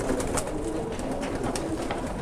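Pigeon cooing from a fancy-feathered panel pigeon in a flying loft, soft repeated coos over steady background hiss, close and moderately loud with no talking.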